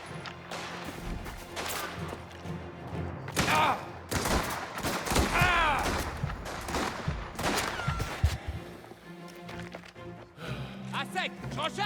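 Bursts of gunfire in a Mafia video game, irregular volleys of shots with crashes and thuds between them, while a person talks over the action.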